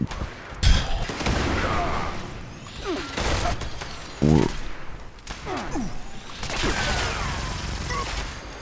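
Video game minigun firing in heavy bursts, loud rattling volleys separated by short pauses and impacts, with a voice speaking between the bursts.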